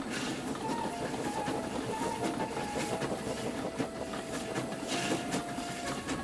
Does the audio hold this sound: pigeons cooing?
no